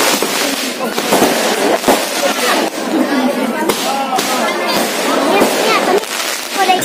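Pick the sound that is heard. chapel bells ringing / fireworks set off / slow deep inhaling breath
fireworks set off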